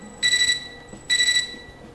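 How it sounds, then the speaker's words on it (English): A computer terminal in the Fate/EXTRA video game gives two short, bright electronic beeps, evenly spaced and close, over a quiet background. "Our mutual silence is interrupted by the computer terminal's beeping."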